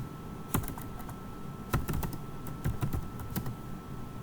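Keystrokes on a computer keyboard while hiring an employee in Oracle HCM Fusion software: scattered single taps and short bursts, close and fairly soft over a steady room hum, with no talking.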